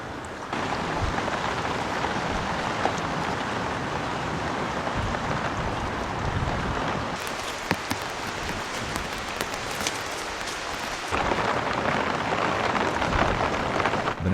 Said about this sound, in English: The next morning, I wake up to the sound of rain.